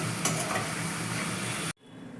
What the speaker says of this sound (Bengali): কড়াইয়ে গরম তেলের মধ্যে দিয়ে দিলাম